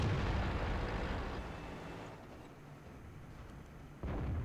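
A single heavy cannon shot from a KV-3 tank aimed at a Jagdpanther II in World of Tanks, a loud booming blast that decays into a rumbling tail over a few seconds, followed by a fresh swell of noise.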